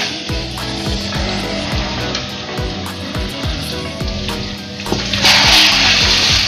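Chicken wings dropped into melted margarine in a pan, giving a loud steady sizzle and crackle throughout, with a brief louder hiss near the end.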